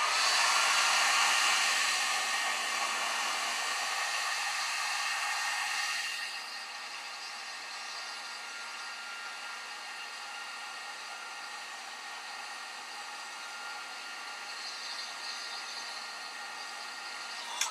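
Heat tool blowing air onto a UV resin bookmark, a steady whooshing hiss that is louder at first, then eases to a softer constant blow, with no talking.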